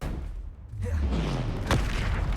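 Confringo, an explosive spell in Hogwarts Legacy, is cast with a sharp whooshing launch that falls into a deep booming blast, followed by a rumbling tail, loud and close.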